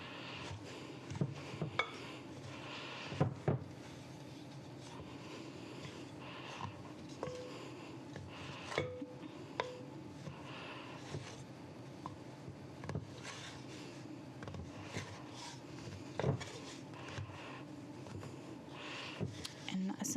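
Homemade pizza dough is mixed and folded by hand in a bowl with soft scraping and irregular knocks against the bowl, fairly faint and continuous throughout.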